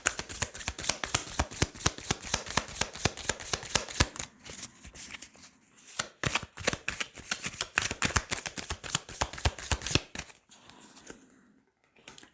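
Tarot cards being gathered and shuffled by hand, a rapid run of crisp riffling flicks and slaps that pauses briefly twice, close and loud with no talking.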